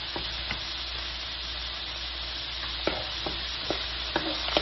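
Garlic sizzles steadily in a hot pan while pancit canton is cooked, with a continuous frying hiss and occasional soft clicks of stirring, close and alone without talk.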